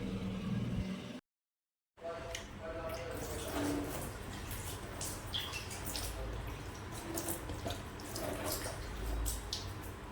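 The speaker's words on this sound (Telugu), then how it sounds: "నైట్లో అయితే ఉన్న సామాన్ మొత్తం అయితే కడుక్కుంటున్నాను" Dishes and utensils are washed with water at a sink, with running water, scattered clinks and splashes throughout, close and moderately loud, broken by one short silent gap.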